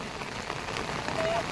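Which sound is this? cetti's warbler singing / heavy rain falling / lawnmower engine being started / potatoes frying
heavy rain falling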